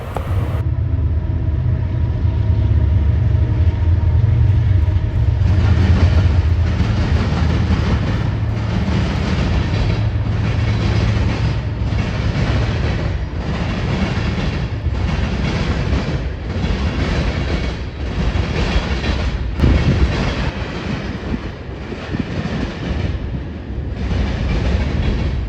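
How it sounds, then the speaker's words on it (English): A CN daily manifest freight from Green Bay, Wisconsin to Gary, Indiana, led by a BNSF and KCS locomotive pair, rolls past close by, a loud steady rumble with a regular clickety-clack of wagon wheels over rail joints throughout. "First train we would see would be CN M336 with a BNSF KCS duo leading the way."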